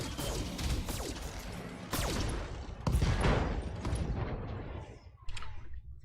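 Mech weapons in the Battletech video game unload on a Locust mech: several sharp volleys and crashing impacts with whooshing projectiles, loud and close, fading toward the end before a final hit.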